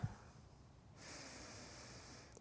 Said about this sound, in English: Good, deep breathing through the belly.